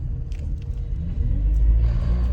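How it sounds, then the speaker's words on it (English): Low, steady rumble from a car with a fault, droning continuously inside the cabin while driving, loud and alone with no talk over it. "I really need to get that fixed on my car, because that noise is irking me"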